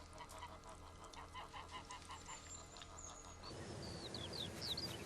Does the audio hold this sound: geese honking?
yes